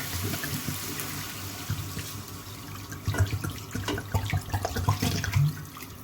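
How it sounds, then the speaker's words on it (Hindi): Water poured into a cooking pot splashes and runs steadily for several seconds, with a fuller gush near the end, close by and fairly loud, no voices. "और साथ इसमें मैं 5 प्याली जो है पानी की ऐड करूँगी।"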